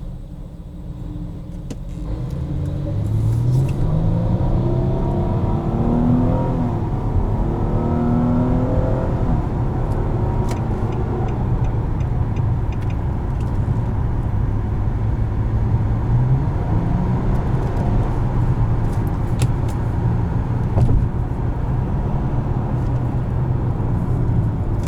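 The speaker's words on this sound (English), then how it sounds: "We'll do a moderate acceleration. Not full throttle, but just kind of see your typical acceleration onto a highway." Cabin view of a 2017 Nissan Maxima SV accelerating moderately onto a highway: a loud, steady engine drone rises in pitch, eases back at shifts, then climbs again, with no talk.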